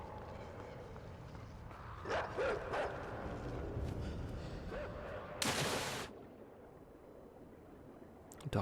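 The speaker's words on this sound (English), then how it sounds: "Dogs are onto us again." Dogs barking in the video game INSIDE, a few short sharp barks at a distance, with one louder broadband burst midway over a low ambient game background.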